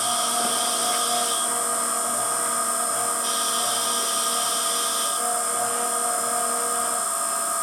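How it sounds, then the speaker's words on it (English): Steady, high-pitched whine of an Emco F1 CNC milling machine cutting a slot in a metal guide block, continuous and fairly loud with a constant mechanical hum beneath. "Now it will proceed to cut the slot."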